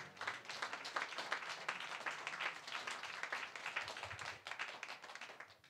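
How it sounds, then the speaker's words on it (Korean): An audience at a Korean church Bible-teaching class gives a round of applause. The crisp, many-handed clapping is sustained and lively from start to finish, with no talking. "박수 한번 하겠습니다."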